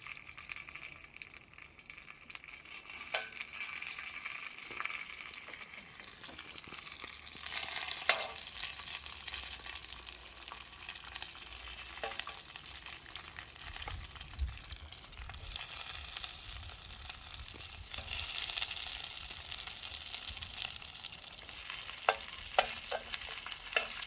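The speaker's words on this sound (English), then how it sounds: "you can hear that sizzling already" Sausages sizzle in a Solidteknics steel pan on a Sunplicity solar cooker, a soft, steady frying hiss dotted with small pops and crackles, fairly quiet and without speech.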